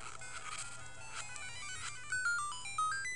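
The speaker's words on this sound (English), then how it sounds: "And that's the phone ringing, of course." A home telephone rings with a melodic electronic tone, rising and falling notes in short repeated phrases, faint at first and growing clearer, mixed with low video-game background sound.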